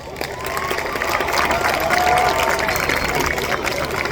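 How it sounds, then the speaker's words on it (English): A school homecoming court crowd applauds and cheers, a loud, continuous mix of clapping, whoops and shouting voices that swells through the middle and stays strong to the end. "Please give a round of applause for both Claire and James."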